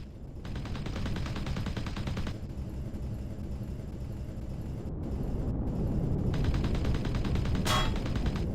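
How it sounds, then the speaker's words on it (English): Gunfire aimed at trees in Empyrion Galactic Survival: rapid repeating shots in several bursts over a steady rumbling background, moderately loud with short pauses between volleys. "Just shoot down some of these trees"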